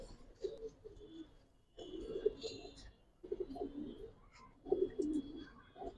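Giribaz pigeons coo inside a loft in several soft, low bursts separated by short pauses, with faint chirps and background rustle between the calls.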